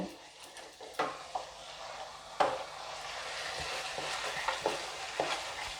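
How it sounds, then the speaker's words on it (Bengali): Cashew paste being stirred into masala in a pan for paneer butter masala gives soft scraping and clinking stirs with a few sharper knocks over a faint sizzle, fairly quiet and close. "কাজু বাদাম বাটা আর মশলাটা খুব ভালো করে মেশাতে হবে।"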